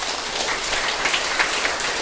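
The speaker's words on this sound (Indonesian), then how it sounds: "Tepuk tangan jutu di bata tai." Congregation applause during a Sunday Protestant church service, a steady crackling wash of many hands clapping at a fairly loud, even level.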